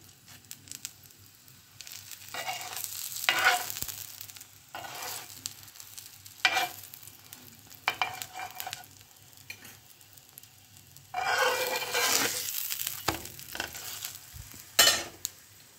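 A paratha fries in oil on a hot pan, soft sizzling coming in bursts as it is moved and pressed, the loudest surges near the middle and toward the end.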